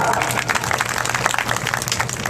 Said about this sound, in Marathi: अभिमान आहे टाळ्या वाजवा